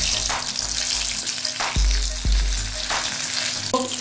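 Stuffed chillies frying in hot oil, giving a dense continuous sizzle and crackle close by, with a couple of brief thumps and a clink near the end and no voices.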